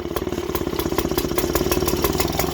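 A 1950s Qualcast 16 hand-cranked mower's small engine running with only rudimentary choke throttling, a steady, fast, rhythmic putter close by and fairly loud throughout, with light mechanical clatter.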